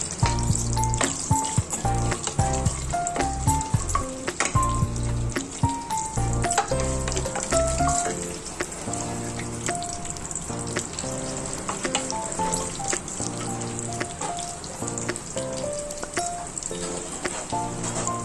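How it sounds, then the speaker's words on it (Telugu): Peanuts, mustard seeds, cumin, chana dal and urad dal crackle in hot oil for tempering, a steady close sizzle with sharp pops and occasional stirring scrapes, heard without talk. "ఇవి తాలింపు గింజలన్నీ పల్లీలు, ఆవాలు, జీలకర్ర, శనగపప్పు, మినప్పప్పు అన్నీ కూడా వేసి వేయించాలి"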